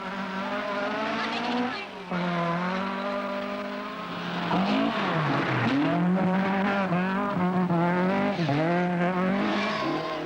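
Roger Clark's Ford Escort rally car driving hard in the 1976 rally, its engine howling steadily and rising and falling in pitch as it revs through gears, close and loud.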